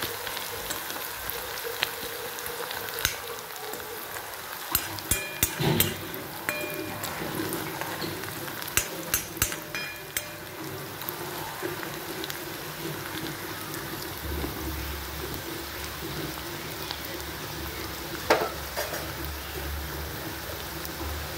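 Onion fries in a pan for a moong dal curry. A steady sizzle and crackle continues throughout, with occasional sharp clinks and scrapes from stirring.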